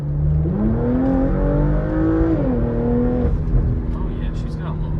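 A 2025 Porsche Macan S accelerates on the road, its engine tone climbing steadily in pitch over a constant cabin drone, then settling as it shifts and pulls smoothly onward.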